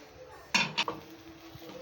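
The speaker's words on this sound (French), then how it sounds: "Et remuons le tout." Carrots being stirred in a pan, with a short burst of utensil scraping and clinking against the pan, two or three quick knocks, then only a quiet kitchen background.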